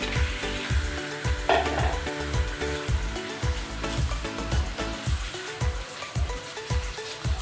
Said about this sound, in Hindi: चिकन को अच्छे तरीके से इसके साथ फ्राई कर लेंगे